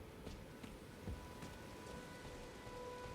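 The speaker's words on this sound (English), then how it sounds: "Alright, so it's raining." Steady rain falling in the open world of the video game Elden Ring, a soft continuous hiss with scattered droplet patter and a faint low rumble throughout, no voices.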